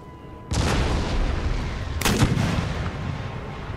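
Artillery volleys in the Empire: Total War video game, with a howitzer fired at a breach: a heavy boom starts the sequence, a second louder blast follows about a second and a half later, and a long rumbling tail comes after it.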